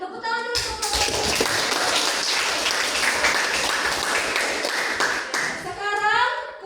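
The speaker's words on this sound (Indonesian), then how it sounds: "Tepuk tangan dulu untuk kelompok." Classroom group applauding after a group finishes presenting: dense, steady clapping from many hands for several seconds, fading as a voice speaks briefly at each end.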